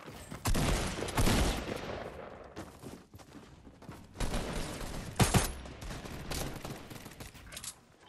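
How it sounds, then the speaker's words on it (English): Rapid gunfire bursts from a Fortnite match crackle loudly in clustered volleys, with heavy shots around the start and a sharp spike midway, continuing in scattered exchanges with no voices. "Oh, someone's shooting actually. Oh, no, I'm shooting."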